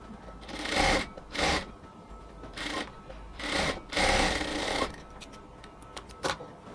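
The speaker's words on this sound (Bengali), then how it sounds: "ডাবল সেলাই দিয়ে নিতে হবে।" Blouse shoulder seam double-stitched on a sewing machine: several short whirring bursts of stitching with pauses between, then a few light clicks and taps.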